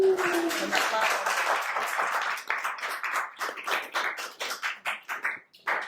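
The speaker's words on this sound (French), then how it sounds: "je vous demande de les applaudir" Audience applause breaks out for a student group at a Haitian justice seminar, a dense roomful of clapping that gradually thins into scattered individual claps toward the end.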